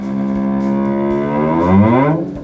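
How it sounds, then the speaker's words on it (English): Gravitational wave detector signal slowed down 150 times, heard as a single loud rising whoop with a rich harmonic tone that sweeps upward and then cuts off. "We often listen to the signal from the gravitational wave detectors, and what we hear is a whoop"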